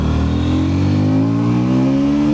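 A KTM Duke 160 motorcycle engine pulls through its mid-range, its loud, close drone rising steadily in pitch under continuous acceleration.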